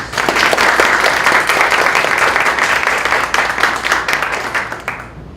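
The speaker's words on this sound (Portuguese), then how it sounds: "eu chamo à mesa para a sua palestra, Marcelo Gonçalves Campos, com os aplausos de vocês." Dense, loud applause from an audience at an economics lecture evening in Minas Gerais on labor reform, greeting a speaker called to the table. It holds steady for several seconds, then tapers off at the end.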